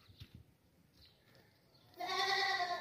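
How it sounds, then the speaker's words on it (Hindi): A plump, double-boned sacrificial goat for sale at a livestock market bleats once, a loud sustained cry near the end after quieter handling noises and faint rustling. "मोटा बकरा ये, इसको पतला मत समझिएगा"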